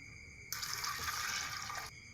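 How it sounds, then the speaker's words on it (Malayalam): Water pours into a pressure cooker holding white beans, a brief steady rush of splashing liquid lasting about a second and a half, close and clear. "വെള്ളം ഒഴിച്ച് കൊടുക്കാം"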